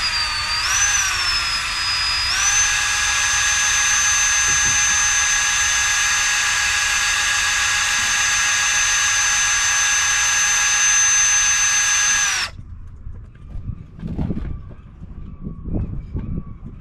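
A power drill with a mixer paddle runs steadily and loudly for about twelve seconds, stirring a mix during an anchor locker hatch repair on a boat, then stops, leaving faint handling noises.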